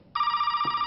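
Inside the horror game Resident Evil 7: Biohazard, a telephone starts ringing with a steady electronic bell tone that stays even and unbroken, heard close and clearly with nothing over it.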